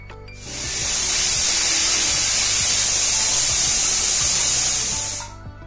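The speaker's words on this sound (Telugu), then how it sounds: "చింతకాయలు మునగ నీళ్లు పోసుకొని 3 విజిల్స్ వచ్చే వరకు ఉడికించుకుందాం" A pressure cooker boiling tamarinds lets out one long, loud steam whistle. It is a steady, close hiss lasting about five seconds before cutting off abruptly.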